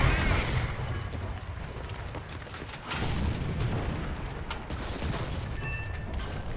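Tank cannon fire in the War Thunder ground battle game, aimed at a T-34's turret: heavy booms and sharp cracks over a dense, rumbling battlefield din, with several distinct shots spread across the stretch.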